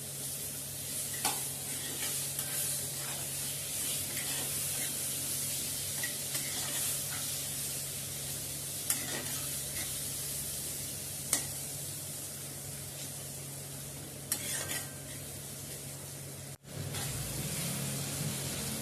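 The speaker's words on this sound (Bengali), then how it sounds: "মশলাগুলোকে একটু ভেজে নেব। তারপর এখানে টমেটোগুলোকে দিয়ে দিলাম।" Spices and tomatoes frying in a pan with salt for a sorse pabda curry, steady close sizzling with occasional stirring clinks and scrapes, one sharp knock near the end.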